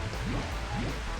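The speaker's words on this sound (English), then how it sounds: "Just summons the acid rain." Acid rain summoned by a character in a video game, a brief hissing patter of falling drops with faint sweeping tones beneath, steady and moderately loud for just over a second.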